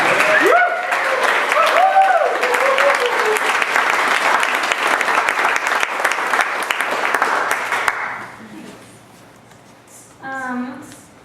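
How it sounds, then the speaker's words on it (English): A release party crowd for a literary magazine applauds its managing editor in a loud, sustained round that stops abruptly, followed by a short spoken remark. "I don't think we even give a round of applause for Chris."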